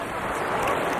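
Baltic Sea surf washing onto a beach, a continuous broad hiss of breaking water close by with no clear pauses.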